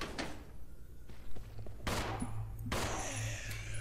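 A few gunshots in the Resident Evil 0 HD Remaster video game, sharp cracks spaced apart over a quiet low hum, fairly faint overall.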